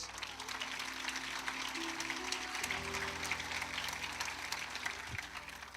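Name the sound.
congregation applauding Jesus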